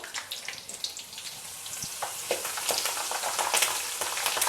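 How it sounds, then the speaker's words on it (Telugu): Spice tempering of garlic and curry leaves sizzling in oil in a pan for a brinjal pickle, a steady close crackling sizzle that builds slightly in intensity with no talk. "ఇదిగోండి పోపు అంతా వేగుతుంది కదా"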